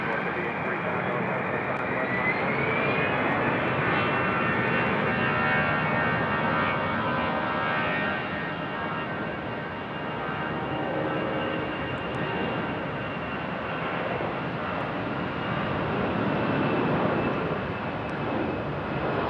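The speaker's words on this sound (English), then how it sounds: "Nice sounding departure for that Delta." A Delta Airbus A320 departs Raleigh Durham airport, its jet engines producing a loud, sustained roar with a rising whine near the start, continuous and close, with a voice faintly beneath.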